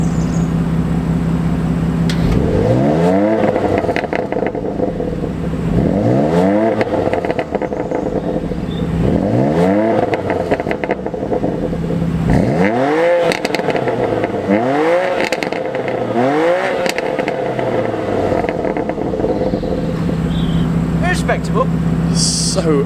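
A BMW M2 Competition fitted with a Remus Race axle-back exhaust, in Sport Plus mode, revs loudly and repeatedly: about seven sharp rising-and-falling blips in a steady rhythm over a constant idle drone, close and dominant.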